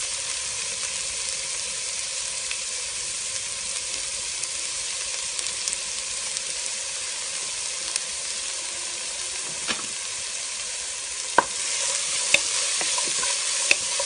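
Sliced onions sautéing in a pan give a constant soft sizzle, with occasional light clicks and scrapes from stirring near the end.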